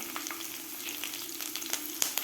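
Chopped garlic and slit green chillies sizzle in hot oil for green moong khichdi, a steady close crackle with a few sharper pops near the end.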